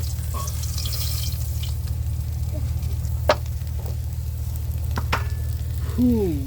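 River fish frying in oil at an outdoor picnic cook-up, a continuous close sizzle with occasional sharp pops and spatters, under a steady low engine-like hum, without talk.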